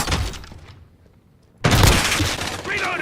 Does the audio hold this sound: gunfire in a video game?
yes